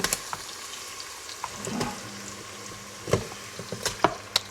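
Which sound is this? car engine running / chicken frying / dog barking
chicken frying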